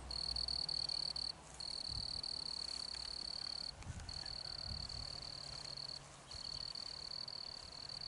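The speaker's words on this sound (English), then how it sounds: "I hear crickets." Crickets chirp in a continuous high trill with a few short breaks during the 2024 total solar eclipse, fairly faint, over quiet outdoor background and occasional low rustles.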